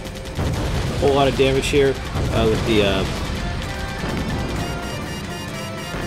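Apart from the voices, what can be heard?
machine gun fire in the video game Blue Dragon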